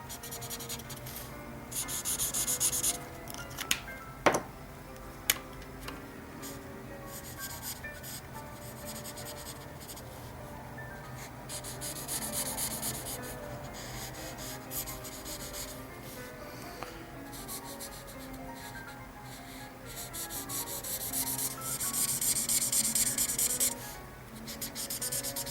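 A pencil quickly shading the side faces of a perspective drawing on paper: a steady, close scratchy rubbing that comes in strokes and gets louder in bursts near the start and the end.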